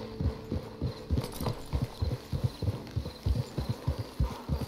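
Horse hooves clip-clop steadily at a walking pace in the Western game Red Dead Redemption 2, a close, rhythmic series of dull thuds heard alone without talk.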